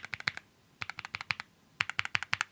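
Quick bursts of keystrokes on a Nuphy Halo75 V2 mechanical keyboard, crisp clacky taps in three short runs with brief pauses between, close and clear with no talk.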